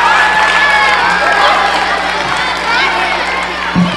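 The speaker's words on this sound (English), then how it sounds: "Y'all give them a round of applause." Middle school students applauding and cheering for classmates called up during a school assembly talk, a loud continuous crowd roar with shouts and whoops filling the whole stretch.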